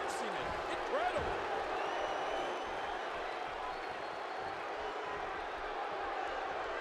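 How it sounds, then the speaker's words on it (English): Crowd noise from the WWE 2K16 wrestling video game during a 10-man Royal Rumble match: a dense, steady roar of cheering that swells slightly near the start and holds throughout. "Listen to this crowd."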